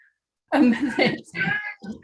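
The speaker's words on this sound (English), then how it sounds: "I apologize if you hear meowing in the background." A cat meows several times in a row, fairly close, each call drawn out and wavering, with short pauses between them.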